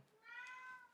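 A house cat gives a single faint meow, a short rising-and-falling call that is heard alone in a quiet indoor room.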